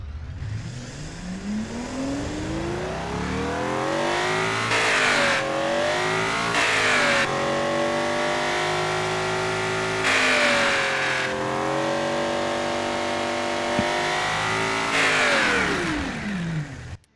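A tuned car engine revs hard several times, climbing and falling in pitch with a deep, loud roar up close.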